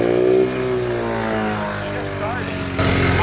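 Toyota AE86 fitted with a K-series engine held at full throttle, a loud, steady high-revving engine tone with slight pitch shifts, and voices talking over it.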